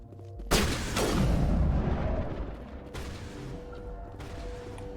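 Gunfire in the video game Mass Effect opens with one heavy booming blast that rumbles and fades over a couple of seconds, followed by a fainter second shot, with no talk.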